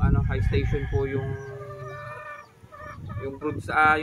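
A brood bull stag rooster, a gamefowl, clucks and calls in short bursts, with talking going on alongside and a brief crow-like cry near the end.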